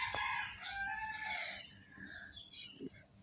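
A hen that cannot walk properly because of an injured foot gives a loud rooster-like crowing call close by, with lighter clucks after, alone without talk.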